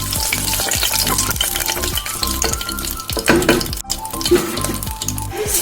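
Whole spices fry in about two tablespoons of hot oil in a pressure cooker, a loud continuous sizzle and crackle with brief stirring scrapes and clinks of metal, no talking.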